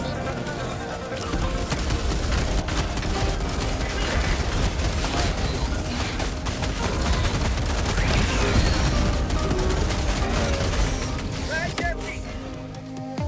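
SG-225IE Breaker Incendiary shotgun firing rapidly in Helldivers 2, a relentless stream of loud, close blasts layered over battle noise, with a voice talking over much of it before the shooting tapers off at the end.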